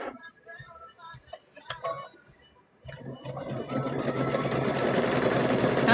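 A sewing machine stitches around the four sides of quilt squares, starting after some light handling clicks and rustles, then running in a steady close whir that continues to the end.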